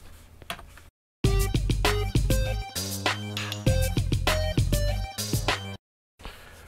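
A short electronic music arrangement from Cubase's built-in media library, led by a punchy bass drum tuned to G with layered synth and percussion parts, playing loud after a brief quiet start, with two sudden drops into silence.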